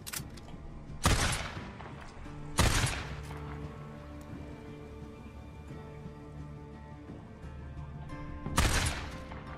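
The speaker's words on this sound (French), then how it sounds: "Je tire sur le muret" Gunfire in the Days Gone video game: three sharp, loud broadband shots spaced a second or more apart over a steady low background hum, with no voices.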